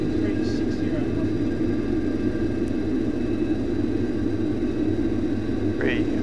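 Airliner engines spooled to take-off thrust for a go-around on a simulated approach to Melbourne, heard as a steady, droning rumble that holds throughout beneath people talking.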